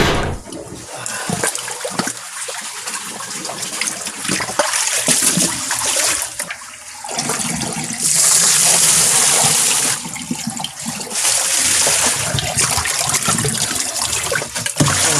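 Water gushes and splashes continuously while a pond's filtration chamber is cleaned and drained, loud and close with a steady rushing flow that swells and eases at times.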